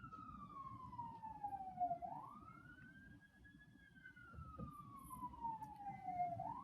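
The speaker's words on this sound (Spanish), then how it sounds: "está pasando una ambulancia por acá donde estoy" A passing ambulance's wailing siren sweeps up and down in long cycles, moderately distant, over a low rumble of road traffic.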